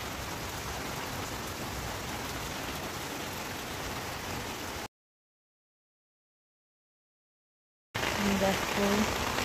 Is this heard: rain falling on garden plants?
yes